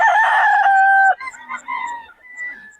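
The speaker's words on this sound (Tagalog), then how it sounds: "Mga manok ni bossing." A rooster crows loudly and close at a busy poultry market day in Bocaue, with a long sustained call followed by softer clucking and calls from other fowl.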